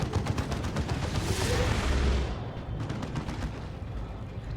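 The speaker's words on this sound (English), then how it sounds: "Finales with the autocannon, of course." Autocannon fire in the video game Dawn of War 2 comes as a dense, rumbling burst of rapid shots amid battle explosions, loud at first and then easing into scattered gunfire.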